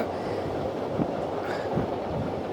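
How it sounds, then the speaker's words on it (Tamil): A train rumbles steadily across the Pamban bridge in strong, gusty wind, with a hollow, droning roar and faint rhythmic clacking of wheels, heard continuously at close range. "பாம்பன் பாலத்தில் இந்த ரயில் போகக்கூடிய அந்த காட்சியை தான் நீங்கள் பார்க்குறீங்க"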